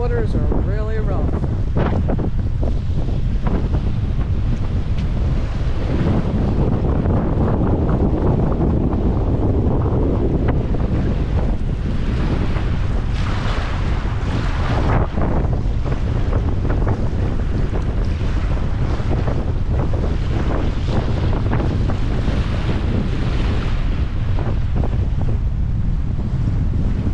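Loud, constant wind buffets the microphone over churning, splashing water, with a boat rumbling along and a few voices now and then.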